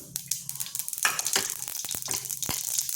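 Mustard seeds crackling in a spoonful of hot oil, with fast irregular pops and a steady sizzle close by, bursting more densely past the midpoint and then continuing as scattered sharp spits.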